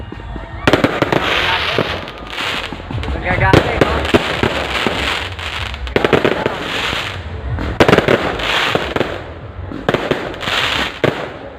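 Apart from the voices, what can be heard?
fireworks exploding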